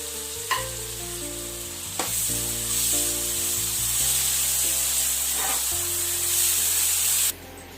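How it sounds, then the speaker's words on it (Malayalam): Ground onion paste sautéing in a pan for a chicken kizhi porotta dish, a steady close sizzle broken by a few spatula knocks and stirring scrapes, easing off near the end, no voices. "ഇത് ചേർത്ത് നമുക്കൊരു 2 മിനിറ്റ് മൂപ്പാകുന്നത് വരെ വഴറ്റിയെടുക്കാം"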